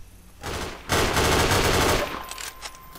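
Half-Life 2: Episode Three weapon fire: a brief shot, then a loud, sustained stretch of rapid automatic fire lasting about a second, fading into a few scattered lighter reports.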